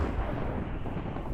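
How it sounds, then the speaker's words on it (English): A muffled explosion rumbles through a Minecraft fight, a dull, sustained low boom that fills the short moment before a sharp blip at the end. "he creates explosions"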